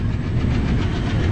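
A train rolls steadily after departing Pamban railway station, a loud continuous rumble with rhythmic clatter of wheels on rails and hiss of moving carriages, close and without pause.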